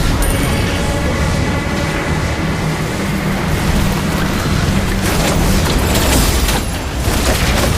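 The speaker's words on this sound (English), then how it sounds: "Our turret has been destroyed." A turret is destroyed in Arena of Valor, a mobile battle-arena game, with loud, dense, continuous explosive rumbling and layered battle effects.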